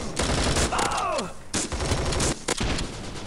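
Shotgun blasts from the video game Bullet Force fire in a few sharp, loud bursts spaced over the span, with a voice talking over part of it.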